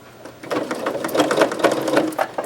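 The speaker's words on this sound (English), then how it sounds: "we're going to go ahead and give this a quick sew" A sewing machine runs a quick seam with a narrow 1/8 to 1/16 inch allowance for a French seam on a travel tissue holder. The stitching is a steady, loud, rapid mechanical chatter heard alone for about two seconds after a soft start.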